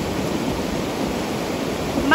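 A swollen stream runs down a hillside after a landslide near a village, a constant rushing wash of water close by with no break.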